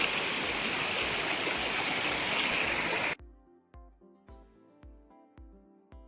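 Water rushing steadily over a small mini dam, a dense, loud flowing roar that cuts off abruptly halfway, followed by a series of sharp, evenly spaced clicks or knocks.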